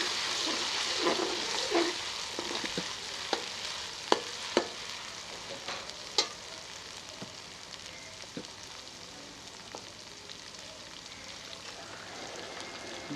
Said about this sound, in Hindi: 2 चम्मच अदरक लहसुन का पेस्ट शामिल कर लेते हैं। थोड़ा सा इसे भून लेंगे।